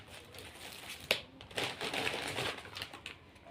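Plastic takeaway bags of koshari with napkin and spoon handled up close, a few crinkling rustles and a sharp click standing out, no talk.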